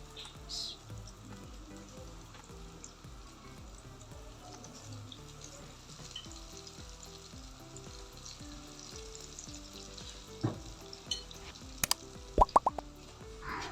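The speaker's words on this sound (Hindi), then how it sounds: "अब इसको फ्राई करते हैं। ऑयल मैंने पहले ही रखा हुआ चूल्हे पे।" Moong dal bhallas fry in hot oil on a stove, a soft, steady sizzle with occasional plops and stirring clinks that turn into a few sharper knocks near the end, quiet and close.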